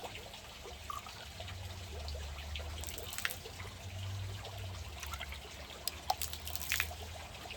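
Water trickles and drips while a small pool water test vial is rinsed out, faint splashy dribbles and a few sharper drops over a quiet background hum, with no talking.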